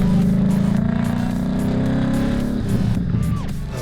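A 2013 Ford Mustang Boss 302 engine drones from inside the cabin, a steady loud low rumble that rises then drops as the revs fall, with a faint shift near the end.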